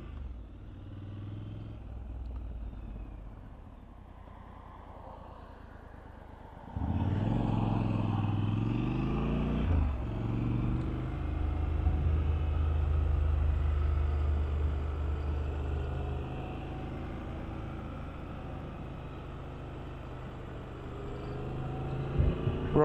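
A 2021 Triumph Scrambler 1200 naked motorcycle riding along a greasy road, its steady engine rumble and wind roar quiet at first, then swelling louder and holding as the bike speeds up.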